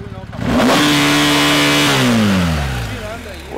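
A BMW 1250 motorcycle engine revs up hard and holds high, its loud mid-pitched roar sliding down as the throttle is released, close by with no talk over it.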